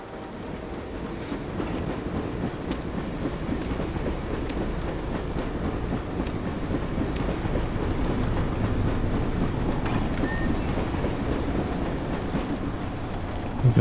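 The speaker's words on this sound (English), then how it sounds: "We stay sneaking and we wait for another train." A train passing in the video game Dreamfall: The Longest Journey, a continuous rumbling roar with faint rhythmic clatter that swells slowly over about fourteen seconds, heard without any voices.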